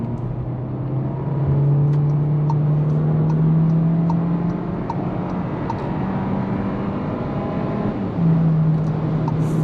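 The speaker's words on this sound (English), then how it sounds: "let's do a quick little acceleration as we head onto the highway" A 2024 Volkswagen Taos, roughly 155 horsepower, accelerates onto a highway in windy conditions, its steady engine drone rising slightly in pitch beneath constant road and wind noise, heard from inside the cabin.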